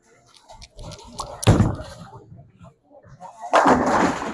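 A Storm Gem bowling ball is thrown down the lane, giving a heavy thud on release followed by rolling and a loud crash of pins, with a second impact near the end.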